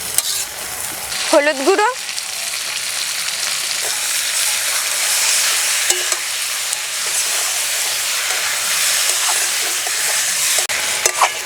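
Shrimp and boiled flat beans (shim) being stirred and fried in a pan, a steady close sizzle with scraping stirs throughout, and a brief spoken phrase near the start.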